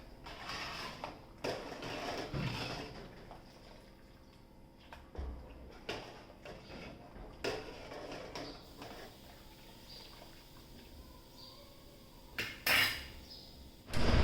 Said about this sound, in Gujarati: તો ચાલો 2-3 મિનિટ આને હલાવીએ અને એકદમ આપણું રેડી થઈ જશે.